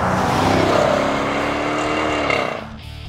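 2014 Jeep Grand Cherokee Summit with a 5.7L Hemi and Flowmaster Force II cat-back exhaust, dual Super 50 mufflers and X-pipe, revving loud and close in a deep sustained drone that rises, then drops away toward idle.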